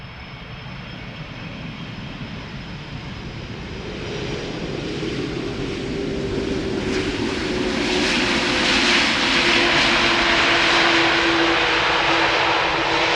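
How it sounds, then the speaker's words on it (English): An Emirates Airbus A380 approaches the runway at Amsterdam Schiphol on a humid day, its engine roar swelling steadily from a distant rumble to a loud, broad whine as it nears. "we are going to see the Emirates A380, which has already been assigned to this very runway we are standing next to."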